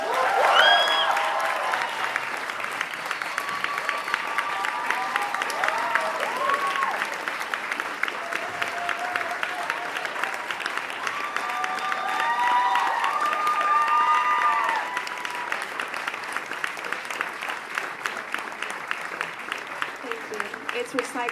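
Sustained applause from a large audience with cheering and scattered whoops fills the room after a spoken word performance at a peace conference opening ceremony, steady and dense throughout, with voices calling out over the clapping.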